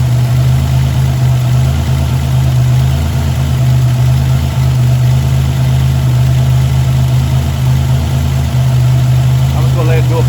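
A Buick Grand National engine idles steadily during a coolant flush, a loud, even low rumble with constant vibration that holds unchanged for the full stretch.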